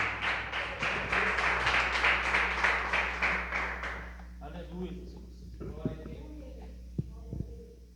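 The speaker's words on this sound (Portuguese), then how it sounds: "Adore-se com suas palmas" A church congregation claps rhythmically in worship, a loud even beat of many hands for about four seconds before fading, followed by quieter room noises and a few sharp knocks.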